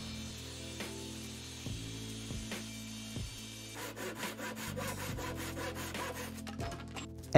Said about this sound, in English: Then I cut all pieces to size using various saws I had at my disposal.